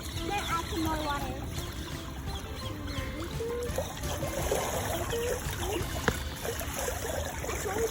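Water trickles and splashes while it is poured during children's water play, a continuous light dribbling with voices talking over it.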